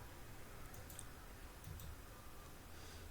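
A couple of soft, quick mouse clicks on a computer's next button during software setup, faint against a steady low hiss with no talking.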